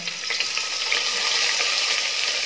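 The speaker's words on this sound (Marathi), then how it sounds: "तर तेल गरम झालेलं आहे, कांदा घालून घ्यायचा" Chopped onion sizzles steadily in hot oil for mutton rassa, a loud, continuous crackling hiss with no talking over it.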